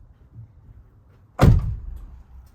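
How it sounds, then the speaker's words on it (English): The door of a Ford Transit van with a Scopema swivel seat base shuts in one solid, close thud that briefly rumbles and fades, with only quiet ambience before it. "let me close the door here"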